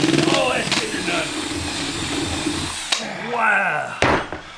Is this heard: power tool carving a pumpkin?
yes